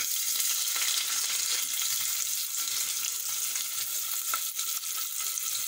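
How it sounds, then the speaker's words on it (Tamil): Onions sautéing in a pan with cinnamon, cardamom and bay leaf for egg biryani, a steady moderate hiss of frying with occasional faint stirring, no voices. "வெங்காயம் நல்லா வதங்கிடுச்சு"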